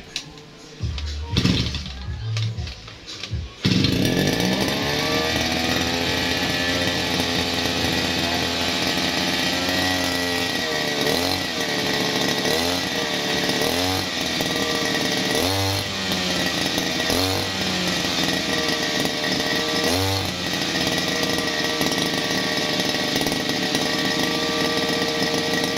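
A Kawasaki TD40 brush cutter, fitted with a new recoil starter, is pulled a few times before catching. Its two-stroke engine then runs as a loud steady whine, with several revving surges rising and falling.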